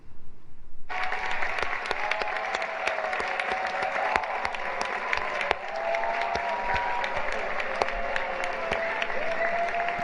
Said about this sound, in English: What are y'all clapping for?